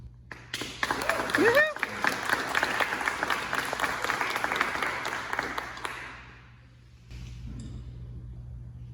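Audience at a senior-division national Bible quiz meet breaks into loud applause and cheering after a quiz question closes, sustained clapping for about six seconds before fading, then a quieter room murmur.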